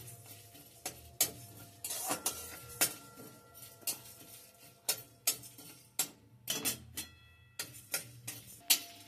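Whole coriander seeds stirred in a pan with dried red chillies and a bay leaf for a glass carp fish curry, a spoon scraping and tapping in irregular close clicks over a faint sizzle.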